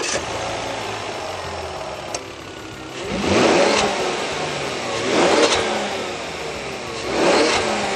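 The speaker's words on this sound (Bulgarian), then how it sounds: "Много е важно да чуеме тоя шестак, бе." Six-cylinder engine of a second-generation Volvo XC70 idles, then is revved in three separate swelling bursts a couple of seconds apart, close and fairly loud.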